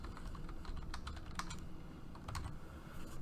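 Quick bursts of key clicks on a computer keyboard, typed in a surgical robotics lab, irregular and close, with short pauses between clusters and no talking.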